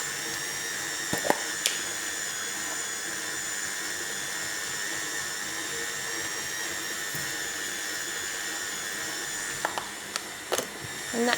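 A stand mixer kneads leftover porridge bread dough with a steady, continuous motor whine and hum, broken by a few faint knocks and clicks near the end.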